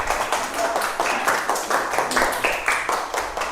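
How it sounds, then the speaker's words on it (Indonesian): A classroom of students applauds a student group after its presentation. The clapping comes as a series of rhythmic, fairly close bursts in a roughly steady beat. "Beri tepuk tangan untuk kelompok 1."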